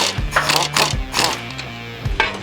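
A hand ratchet works loose a nut and bolt on the cross member of a 1972 Mustang Mach I, giving repeated close clicking bursts in quick, uneven strokes.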